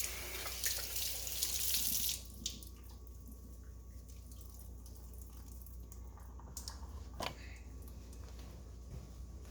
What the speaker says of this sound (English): let's rinse it out